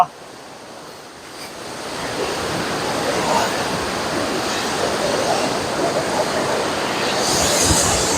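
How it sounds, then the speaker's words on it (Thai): A gently flowing stream gives a continuous broad rushing wash of water, steady and fairly close, building slightly toward the end, with no clear talk over it. "คลองน้ำโอ้ย เนี่ยอย่างสวยเลย น้ำไหลน้อย ๆ"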